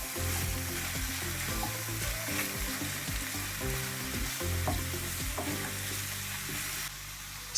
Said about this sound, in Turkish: Ve karıştırmaya devam ediyorum.